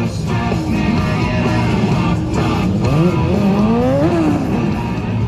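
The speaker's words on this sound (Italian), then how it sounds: "questo poco di spettacolino di ruote fumanti" A motorcycle engine roars during a burnout at Motor Bike Expo 2023 as smoking tires screech in rising, wavering squeals, loud and continuous.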